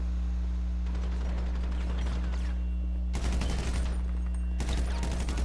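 Bursts of rapid automatic gunfire rattle over a steady low engine-like hum during a bank robbery shootout in GTA 5 roleplay, with two loud sustained volleys near the end.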